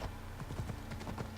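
Hooves of the horse Phobos clip-clop in Assassin's Creed Odyssey, a steady trotting rhythm of soft repeated thuds over a low constant background hum, with no talking.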